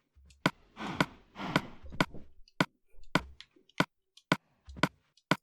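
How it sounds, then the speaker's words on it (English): Interface clicks from Minecraft Bedrock Edition as inventory slots are selected: about a dozen sharp, distinct clicks in an irregular rhythm, close and clear, with a couple of short soft rustling bursts between them. "And when you click on slots,"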